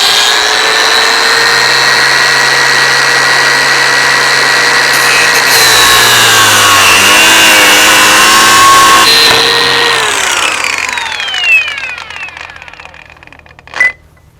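A Litheli U20 cordless angle grinder whines loudly while cutting, a high steady tone that drops in pitch under load, then winds down near the end and finishes with a sharp clack.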